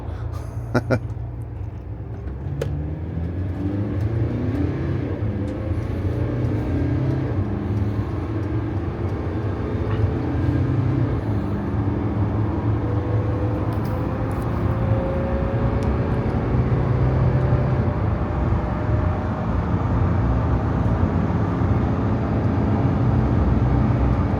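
Mercedes OM654 1.95-litre diesel camper van engine pulling hard as it accelerates from 30 to 100 km/h, a steady loud drone with rising tones climbing gradually for over twenty seconds alongside road and wind noise.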